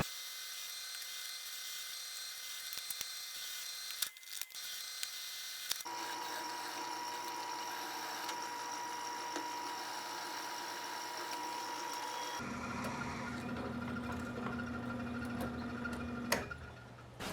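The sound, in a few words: drill press drilling a hole in a steel knife tang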